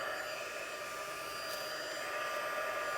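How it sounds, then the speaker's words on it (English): A heat tool blows hot air onto tissue laid against a candle, a steady, even hiss of rushing air that holds constant, close by and alone. "take my heat tool"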